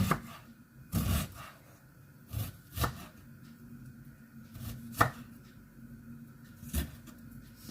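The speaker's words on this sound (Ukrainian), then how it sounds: "Я не буду морку терти, я буду нарізати" A knife chops carrot and onion into pieces on a cutting board, a run of separate thuds spaced irregularly, with a few louder strikes standing out against a quiet kitchen and no talk.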